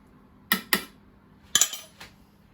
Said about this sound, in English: Just give it a bit of a stir.